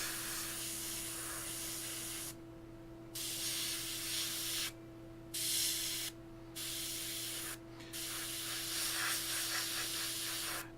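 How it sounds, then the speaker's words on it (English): An airbrush sprays paint onto a Reaper Father Dagon miniature, giving a steady close hiss in several bursts separated by brief pauses, with a constant low hum underneath. "So I'm just doing this with the airbrush."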